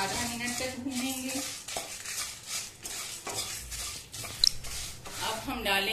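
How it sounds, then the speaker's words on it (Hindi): Kashmiri red chillies dry-roast in a pan with coriander and cumin, giving soft, irregular scraping and rustling as a spoon stirs them, with a faint low crackle underneath and one sharp metallic tap. "इसे भी हम धनिया और जीरा के साथ आधा मिनट तक भूनेंगे।"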